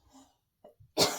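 A man's tickly cough: one sharp, close cough burst at the end, preceded by faint throat sounds and breathing in a quiet room.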